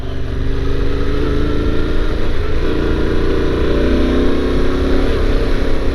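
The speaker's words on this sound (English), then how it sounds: "It's my first time taking a bike anywhere near this big on anything resembling off-road" A large motorcycle rides slowly off-road, its engine giving a loud, steady, close rumble that continues throughout.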